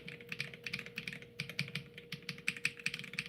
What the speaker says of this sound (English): whatever came in this Royal Kludge keyboard. They're definitely linear switches